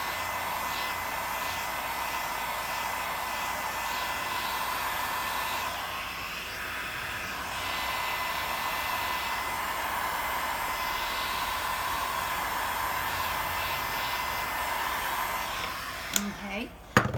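A hair dryer blows steadily and loudly for about sixteen seconds while drying texturized paint, a constant whooshing roar with slight dips, ending with a few clicks and knocks.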